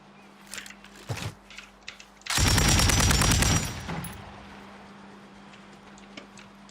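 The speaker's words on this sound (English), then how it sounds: "Sounds like gunfire close." Video game gunfire in a battle-royale match, with a few scattered shots and then a loud, close burst of rapid automatic fire lasting about a second before it gives way to quieter ambient ticks.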